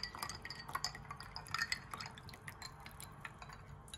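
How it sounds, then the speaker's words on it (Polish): Milk is poured into iced coffee in a glass, giving a close run of trickling, splashing liquid sounds dotted with small glassy clinks and drips, fairly quiet and with no talking. "I teraz nalewamy mleczko."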